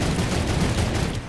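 Fast, loud volley of pistol shots in the video game Fortnite, steady and continuous across the short moment, with no voices over it.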